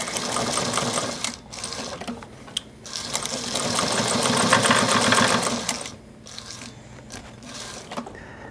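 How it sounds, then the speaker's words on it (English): A sewing machine stitching leather archery shooting tabs runs in close, loud rhythmic bursts of rapid needle chatter, with short pauses between runs and a back-stitch finish. "finish off with a little bit of a back stitch"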